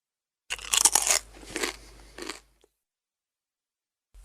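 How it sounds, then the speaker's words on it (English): A crisp crunching sound effect: a burst of brittle crackling crunches, loud and close, runs for about two seconds and then cuts to silence. "Crunch!"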